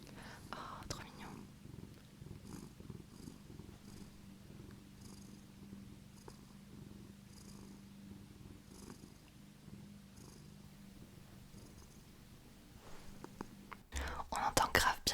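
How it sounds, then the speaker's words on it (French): A soft, steady cat purr runs close to the mic throughout, with faint rustling and a few light taps, then louder handling noise at the end. "On entend grave bien les ronronnements."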